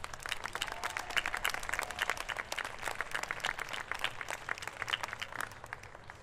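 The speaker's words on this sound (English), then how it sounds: "They're troopers, so a round of applause just for that" A crowd applauds student jazz musicians who have rehearsed through rain and heat, individual claps clearly distinct in a lively, sustained round at moderate level, no speech over it.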